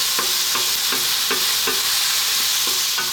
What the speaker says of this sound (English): stirring all of the time now.